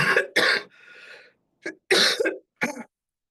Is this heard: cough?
yes